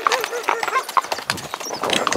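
Horse hooves clip-clop steadily on a mountain trail while riding uphill through Peneda-Gerês national park in Portugal, close and rhythmic, with a rider talking over the steps.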